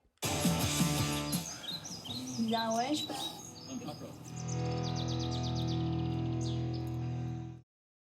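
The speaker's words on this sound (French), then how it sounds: "on va baisser le son parce que je pense que des oiseaux trop forts, ça va pas le faire" Birdsong added as a sound effect in Final Cut Pro: bright, repeated chirps and tweets that fill the clip, with a short spoken French phrase over them near the start.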